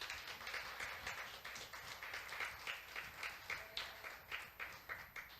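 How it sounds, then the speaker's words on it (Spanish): Church congregation applauding during a Sunday service, faint rhythmic clapping with a steady pulse, heard at low level over a constant background hum. "Del aplausos a Cristo en esta mañana."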